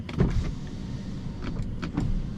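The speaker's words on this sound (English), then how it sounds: "And then all four windows are touchless up and down." Power windows on a 2013 Bentley Continental Flying Spur Speed running up and down, a smooth close motor hum with soft thumps as the glass starts and stops, no talk.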